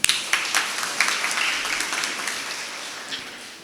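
A crowd at a catechism anniversary gathering in St. Mary's Church, Perumbavoor, breaks into applause for the priest, starting loud right away, then holding steady before slowly thinning out.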